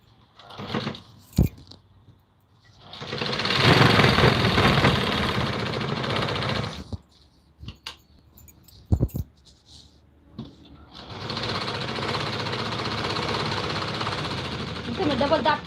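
A sewing machine stitches a Patiala salwar in two loud, steady bursts of whirring, with a pause between them. Soft clicks and handling noises fill the gap.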